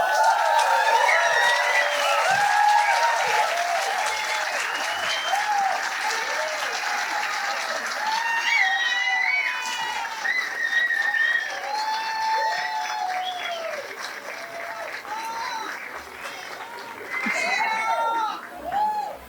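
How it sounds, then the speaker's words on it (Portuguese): Audience applause for a guest on a politics panel at a winter festival, a long, full burst of clapping from a crowd with scattered cheers and chatter, fading slightly before a final swell. "Pelos aplausos, não precisa dizer mais nada"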